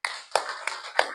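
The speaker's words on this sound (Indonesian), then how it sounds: "Oke, tepuk tangan." A class of schoolchildren claps hands in a small classroom: four sharp, evenly spaced claps about a third of a second apart, close and fairly loud with no talking.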